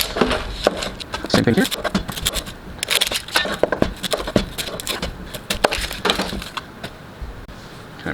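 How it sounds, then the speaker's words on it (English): A knife slices through onions on a cutting board, with crunchy, crackling cuts repeating under steady talk throughout. "And then I also have my onions. Just get it cut. Cut that right in half."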